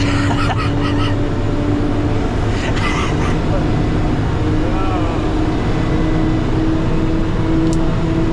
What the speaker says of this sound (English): He doesn't think you're driving the truck hard enough, Dave.